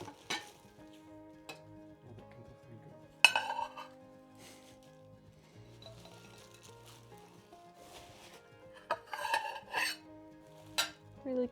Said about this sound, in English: Lots and lots of silverware.